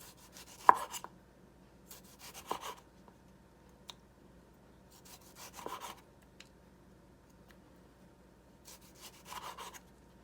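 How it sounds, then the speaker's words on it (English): A knife slicing tomatoes into rounds on a board, heard as a few short, soft cutting strokes in separate clusters with quiet pauses between, close by and with no talking. "I'm gonna do the same thing with the tomatoes. I'm gonna cut them circles"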